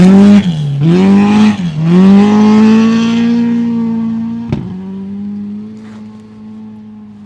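A Ford Escort rally car on a special stage of the Canterbury Rally roars loudly up close, revving hard through gear changes with a sharp crack, then holds a steady engine drone as it pulls away.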